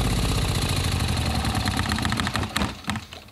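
Yanmar L48AE single-cylinder diesel generator engine winding down while held to stop, steady rhythmic chugging that loosens and slows into a few uneven final thumps, close and loud.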